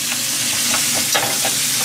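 Butter and garlic sizzle in a frying pan over lowered heat, a close, steady crackling hiss with a few stirring scrapes and no talk.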